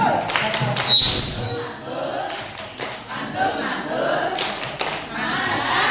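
A workshop group performs a rhythmic clapping routine, sharp clustered claps with a few thuds mixed in, alongside voices and some talk.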